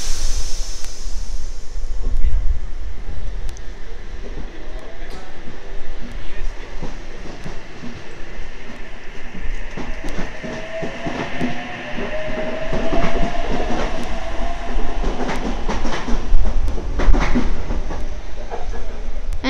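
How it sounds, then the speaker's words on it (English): A Sydney suburban Leppington service train approaches a platform at Redfern station with steady rumbling, rail clatter and rising squeals, loud and continuous throughout. "approaching platform 6 is a Leppington service"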